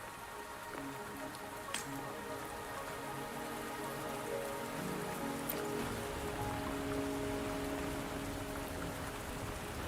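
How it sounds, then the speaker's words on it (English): Steady rain falls in the video game Wuthering Waves, a continuous soft patter of drops on surfaces with occasional drips, even and fairly faint throughout with no talking. "Are you trapped here by the rain?"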